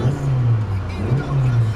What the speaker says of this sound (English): So it revs up nicely and it idles smoothly.